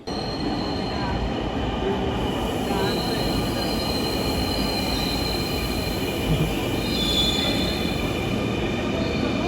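A metro rail train pulls into a station platform, its steady rumble and rolling roar filling the scene with high squealing wheels throughout, loud and close.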